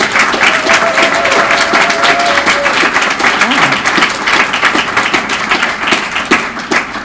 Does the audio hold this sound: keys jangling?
no